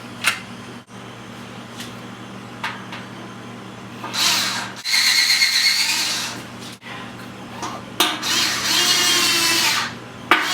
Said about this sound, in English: Drill hole number 2.